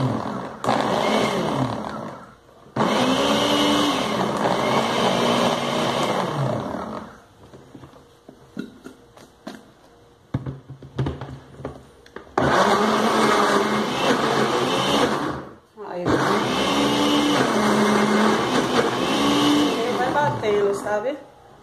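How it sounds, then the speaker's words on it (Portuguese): A kitchen blender whirs loudly in several separate bursts of a few seconds each, blending a natural homemade seasoning, with quieter gaps and a person talking between runs. "Para forçar o liquidificador"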